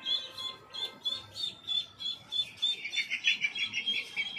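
Pet birds chirp and tweet in a steady run of short, bright calls, growing busier and more continuous toward the end, moderately close with no talking.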